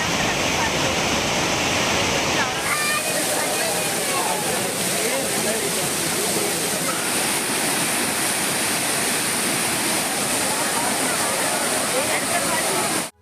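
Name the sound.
water flowing down Courtallam waterfalls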